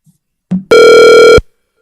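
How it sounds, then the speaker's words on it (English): A telephone rings once during a live call placed on air, a single loud, steady electronic ring lasting under a second, preceded by a short click and followed by silence. "You want to see if we can get Ryan on the phone?"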